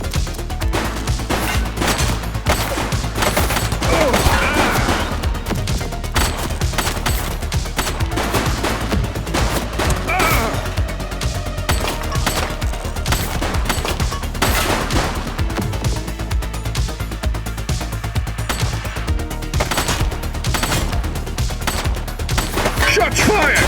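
Sustained gunfire in The Precinct, a police shooter video game, with fusillades and machine-gun-like bursts rattling loudly and continuously throughout, occasional brief voices over a backing score.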